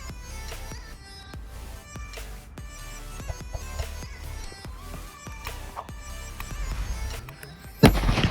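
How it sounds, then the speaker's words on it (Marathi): A firecracker bomb sets off a string of sharp cracks and pops at irregular intervals, then a louder, broadband blast bursts near the end. "सो पहिला आपण बघूया एक बॉम्ब लावून."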